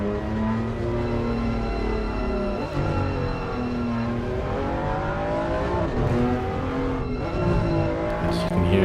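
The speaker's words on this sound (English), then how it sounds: "trying to warm his brakes as he gets on the accelerator, gets on the brakes, trying to warm those tires, warm those brakes" An M2 race car in a sim racing game at Snetterton, its engine note rising and falling steadily as it alternately accelerates and brakes to warm the tires, with a faint voice under it.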